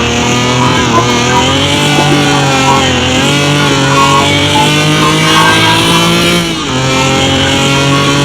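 A modified Alfa Romeo Giulia of about 487 horsepower in Car Mechanic Simulator 2021 revs hard and loud, a continuous buzzing engine note that climbs in pitch, dips briefly near the end, then carries on.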